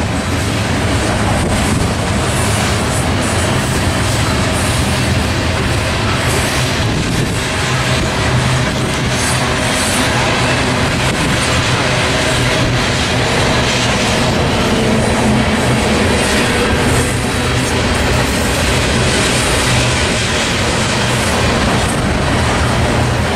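A freight grain train rolls steadily past at close range, its wheels clattering and rumbling loudly over the rails for the whole stretch without a break.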